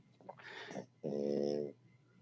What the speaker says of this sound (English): I was definitely getting some dog noises.